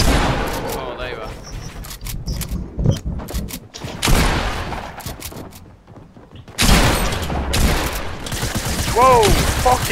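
Pump shotgun fire in a Fortnite match, loud repeated blasts amid dense game effects and mechanical clatter, with a voice talking over the action.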